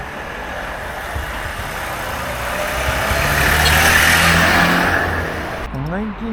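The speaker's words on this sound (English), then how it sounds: "I see this gentleman on a Trabant, which was a car made in East Germany" A Trabant, the East German-made car, drives along Calea Victoriei in Bucharest, its engine and road noise building to a loud peak mid-pass, then easing, with a brief voice-like sound at the very end.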